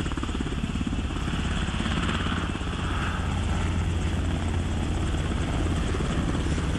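A Firehawk helicopter's rotor chops steadily and loudly throughout at a firefighting helibase, a continuous close engine drone with no voices.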